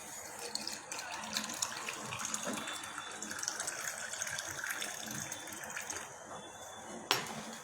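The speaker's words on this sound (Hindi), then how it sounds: "आइस क्यूब डालने के बाद अब मैं इसमें पानी डालूंगी।" Water pours steadily into a glass already holding ice cubes while a summer drink is made, a continuous close splashing trickle with a brief sharp clink near the end.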